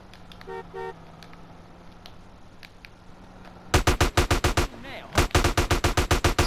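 Rapid gunfire from a gang attack in the video game GTA San Andreas: after a quiet stretch with faint beeps, loud close shots ring out in quick regular bursts, pause briefly, then start again fast.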